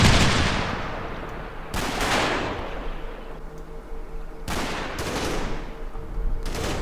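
Gunfire in the World War II game Combat Mission Market Garden: three sharp, loud reports at roughly even intervals, each trailing into a long rumbling echo, with faint battle noise between.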